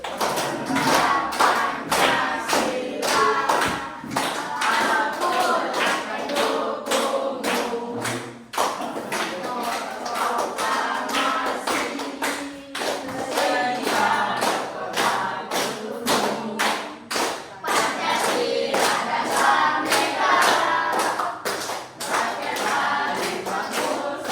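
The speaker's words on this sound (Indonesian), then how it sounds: "Sambil tepuk tangan ya" A group of people claps in a steady, quick rhythm while singing the Indonesian song Garuda Pancasila together, sharp, loud claps running continuously under the voices.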